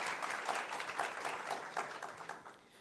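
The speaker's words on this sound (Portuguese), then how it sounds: "Uma salva de palmas, galera." An audience at a tech meetup applauds, a soft, fairly distant patter of many hands clapping together that fades slightly toward the end.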